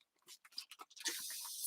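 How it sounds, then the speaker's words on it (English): A mister bottle sprays water onto the back of a sheet of paper in a craft project, giving a steady close hiss. A few light ticks and taps come just before it. "spray the back of your paper with your Mr. bottle"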